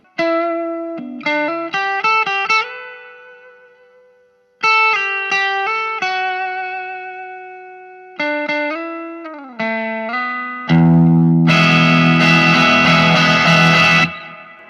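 A Vox AC10C1 amp plays clean electric guitar phrases with a lush reverb tail, each note decaying smoothly, before a dense, gritty strummed chord section takes over near the end.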